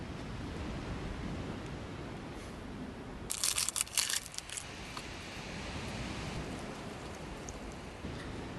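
Surf at Wreck Cove washes in as a steady, soft broadband hiss, fairly distant and unbroken, with a brief burst of jangling clatter near the middle.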